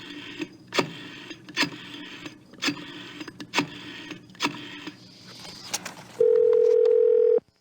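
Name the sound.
telephone dial tone in video game Gabriel Knight 2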